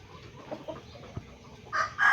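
Roundhead rooster in a backyard farm, with a few faint clucks and soft background rustle before a loud, close crow begins near the end.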